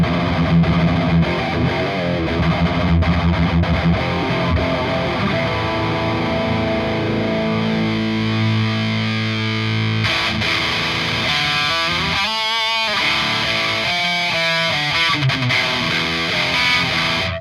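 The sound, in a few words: distorted metal guitar through ENGL e860 amp, treble at zero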